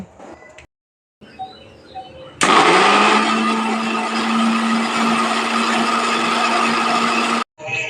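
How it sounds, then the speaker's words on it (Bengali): An electric blender grinds a spice paste of whole spices and fried onions, its motor revving up to a loud, steady whirring roar that holds for several seconds before cutting off, with brief speech and clatter around it. "এরপর আবারও সব কিছুকে ব্লেন্ড করে নেব"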